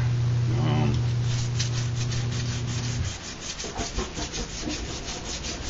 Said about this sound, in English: I'm down to working with sandpaper